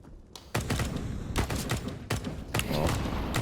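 Gunfire from a CZ pistol in a Counter-Strike match on the Overpass map at a professional esports tournament, several rapid bursts of close shots cracking over steady game background noise.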